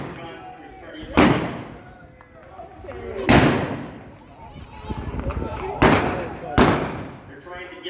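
Gunfire at a Jesse James bank raid reenactment, four loud sharp reports spaced a second or two apart, outdoors with crowd murmur and voices in between.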